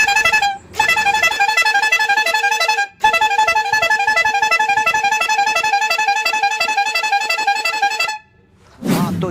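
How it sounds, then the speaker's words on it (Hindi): A powerful air horn fitted to an auto rickshaw blares in loud, close, multi-tone blasts. Two short breaks cut the sustained sound before it stops near the end. "जैसे हम बटन को दबाएंगे तो देख सकते हैं हॉर्न जो है वो बजने लगा"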